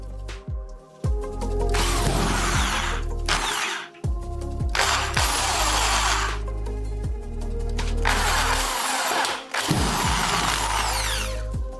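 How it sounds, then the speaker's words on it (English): Power drill boring holes in the metal casing of an Effeuno P134H pizza oven with a number 4 metal drill bit, loud whining bursts that spin up, grind and stop several times, heard up close. "I took a number 4 drill tip for metals, and I created the two necessary holes for fixing the SSR to the oven"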